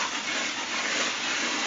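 Steady gushing rush of water pouring into a barrel for homemade liquid organic fertilizer, continuous and even for the brief span, with no talk.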